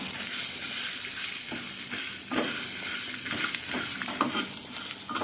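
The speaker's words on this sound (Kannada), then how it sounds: "ಹಾಗೆ ಒಂದು ಐದಾರು ಬೆಳ್ಳುಳ್ಳಿ ಹಾಕಿ ಚೆನ್ನಾಗಿ ಫ್ರೈ ಮಾಡಿದೆ" Five or six garlic cloves fry in a hot pan for a Mangalore-style egg curry, giving a steady close sizzle broken by scraping stir strokes throughout, with no voices.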